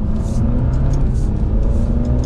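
A 2020 Alfa Romeo Giulia Sport pulls hard from second gear, its engine note loud, steady and continuous from inside the cabin as the sedan accelerates.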